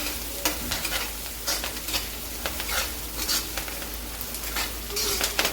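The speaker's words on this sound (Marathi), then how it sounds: "हळद पण छान मिक्स करून घ्यायची पूर्ण फोडणीमध्ये" Turmeric is stirred into a sizzling spice tempering for kanda poha, with a continuous frying hiss and repeated spoon scrapes and clinks against the pan.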